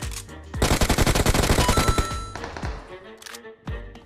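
Rapid machine-gun fire in a video game: a loud, close burst of evenly spaced shots. A few scattered single shots follow it, with little talk.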